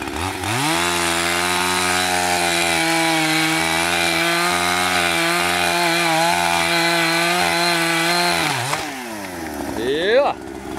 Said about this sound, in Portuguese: dá um pique em cima e vem de baixo pra cima, que ele munheca assim, livra a motosserra por baixo